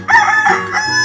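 A cartoon rooster lets out one loud, close cock-a-doodle-doo crow, rising and then stretching into a drawn-out final note, alone and clear.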